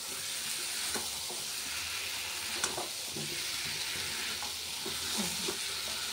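Goat meat sizzles and fries in a pan as it is sautéed, a continuous crackling hiss with occasional scrapes and stirs of a utensil against the pan, close and steady with no talking.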